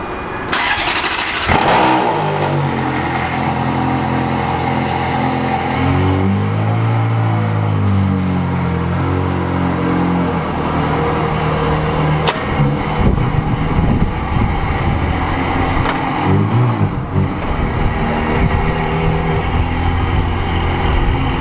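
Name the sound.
Ferrari engine cold start after painting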